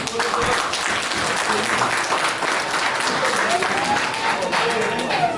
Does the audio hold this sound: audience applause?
yes